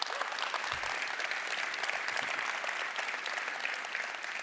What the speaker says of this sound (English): A big round of applause for Thiago.